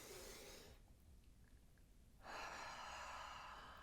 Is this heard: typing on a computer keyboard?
no